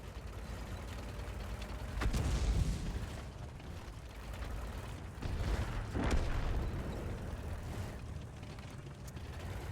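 A tank cannon fires at a Leopard tank in a tank battle video game on a cliff map, with heavy booming blasts around 2 and 6 seconds over a constant rumbling engine and mechanical clatter.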